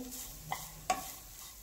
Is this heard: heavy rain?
no